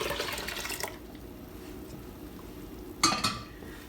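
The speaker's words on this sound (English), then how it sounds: "We're gonna stir it very well. Get the yogurt all mixed up with the milk." A spoon stirring warm milk mixed with yogurt in a pot: a burst of liquid sloshing and metal scraping at the start, then quiet, then another short clatter near the end, heard close and without speech.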